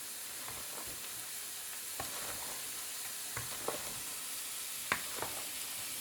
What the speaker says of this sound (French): Pendant que les oignons sont en train de griller